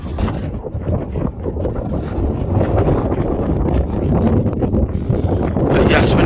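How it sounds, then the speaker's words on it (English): Strong wind buffets the microphone on the mountain top of Carnedd Llywelyn in a steady, loud roar that builds slightly toward the end, with no other sounds standing out. "Very windy up here, very, very windy."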